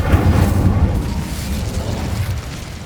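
A burst from the Incendio fire spell in Hogwarts Legacy, a dense, loud boom that rolls on as a sustained roaring blast for a few seconds before easing off.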